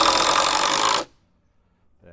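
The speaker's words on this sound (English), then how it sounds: "So what I'm going to do is fire a screw in there" A power drill drives a screw into clamped wall framing on a wet outdoor building site, one loud sustained whir lasting about a second that stops abruptly into near silence.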